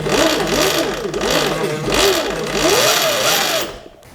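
A Surron Ultra Bee electric motorbike's drive belt spins on a stand during tension adjustment, a loud close whirring drone that rises and falls in repeated surges, then fades at the end.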